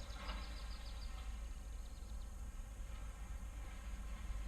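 Honeybees, mostly young nurse bees, buzz inside an opened hive, a faint continuous hum with a few louder passes near the start, no voices.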